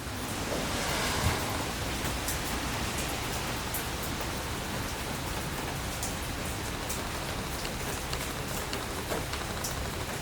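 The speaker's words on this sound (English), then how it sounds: "It's raining, it's night time" Rain falls at night around a Honda CR-V parked outdoors, a dense, even hiss of drops with scattered sharper patters, steady and unbroken throughout.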